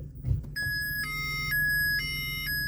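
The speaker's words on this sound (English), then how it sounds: "yeah, I get that beeping. So there's a chime up here which tells you" Reverse parking-sensor warning chime on a 2002 Vauxhall Corsa 1.0i 12v: a clean electronic tone beeping in steady alternating pulses from a small interior speaker, clear and close with faint background hum.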